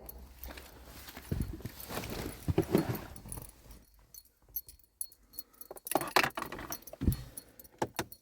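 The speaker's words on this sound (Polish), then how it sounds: "to te klucze do busa zostaw proszę Cię tam w koszyku" A set of van keys jangles close by in irregular metallic bursts over several seconds, mixed with handling clatter and shuffling.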